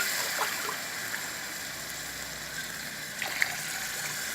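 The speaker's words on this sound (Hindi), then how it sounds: "मैं इसमें 2 गिलास ही पानी डाल रही हूँ।" Water poured from two glasses into a cooking pot ahead of boiling rice for mixed vegetable pulao, a steady continuous splashing stream with a couple of brief louder splashes, close by and alone.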